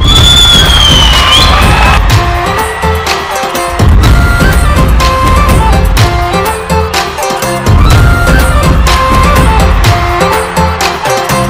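A studio audience on a talk show rising for a standing ovation, with loud, sustained applause and cheering that swell in waves over music.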